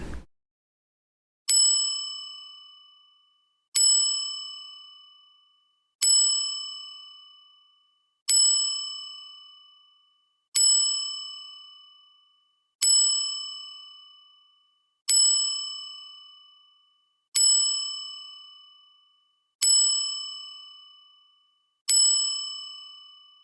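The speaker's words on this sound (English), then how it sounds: "I like to give a moment of silence and my 10-bell salute to the gingerbread man." A single bell rings ten times as a ten-bell salute, each clear, bright ding sounding alone and decaying slowly at an even, unhurried pace of about one strike every two seconds.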